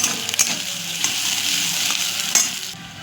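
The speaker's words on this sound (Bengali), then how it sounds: "পেঁয়াজটা ভাজা হচ্ছে" Onions sizzle in hot oil seasoned with whole garam masala, chilli and cumin, a continuous close frying hiss broken by several scraping stirs of a utensil against the pan; no voices.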